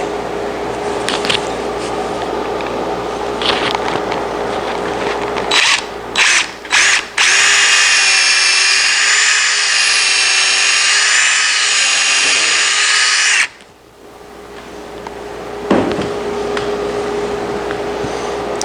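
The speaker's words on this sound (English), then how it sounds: "Since I have so many nails in here, I'm pre-drilling, make sure I don't split anything." A power drill pre-drilling nailed wood on a wooden gate whines steadily for several seconds after a few short bursts, loud and close, then cuts off abruptly.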